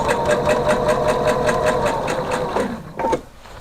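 Sewing machine stitching a skirt seam, a steady rapid mechanical whir with even pulses that slows and stops near the end, leaving a brief rustle.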